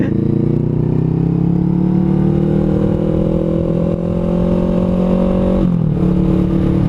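A Honda CMX500 Rebel motorcycle with a 500cc engine rides steadily, its engine droning loud and close at a constant pitch before a brief dip as revs shift, with faint wind noise and no one talking.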